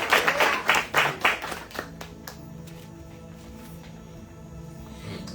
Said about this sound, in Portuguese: Se você crê, aplauda o Espírito Santo.